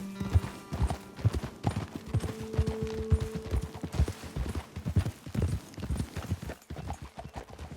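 Horses' hooves clip-clop in a steady walking rhythm in a fantasy video game, close and fairly loud, with faint background tones.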